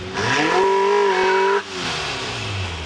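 Race car at a speed hillclimb accelerating hard and close, its engine rising through the gears for about a second and a half before cutting off abruptly, then a lower engine tone fades into the distance.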